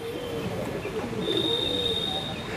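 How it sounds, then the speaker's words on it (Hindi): A jet black pigeon coos softly and steadily close by, a low murmuring call running through the whole stretch with a faint higher whistle-like tone above it and no talking. "ये जो जाग कबूतर है ये जेड ब्लैक है"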